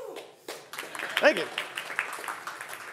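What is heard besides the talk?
audience clapping and applause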